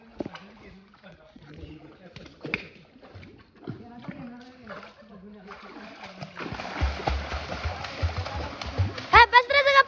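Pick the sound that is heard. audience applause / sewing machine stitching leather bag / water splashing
water splashing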